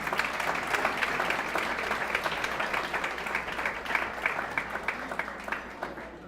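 An audience at an awards ceremony for women gives a round of applause, even and sustained clapping at moderate level with no speech over it, tapering slightly at the end.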